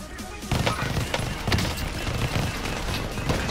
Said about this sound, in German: Ich hab ihm so hart geschossen